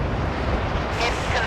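A missile launches from a warship in the naval combat game Force of Warships: a loud, rumbling blast of broadband noise, then a brighter rushing whoosh toward the end.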